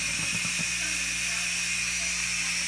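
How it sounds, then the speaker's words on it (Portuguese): A pressure cooker cooking beans on a home stove vents a steady, light steam hiss that continues evenly throughout, with a brief low voice near the start. "Já começou o vapor, leve."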